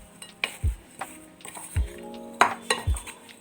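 A spoon stirs a thick besan sweet mixture in a pan, giving a few soft scraping strokes with light metallic clinks against the pan, close by and without talk.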